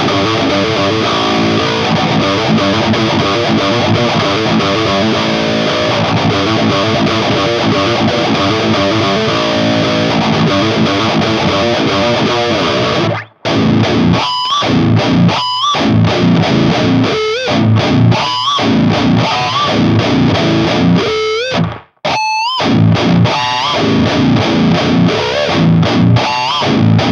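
High-gain distorted electric guitar through a Valeton GP-100 multi-effects unit, loud and dense with sustained chords, then choppy palm-muted riffs broken by brief silent stops, with no talking.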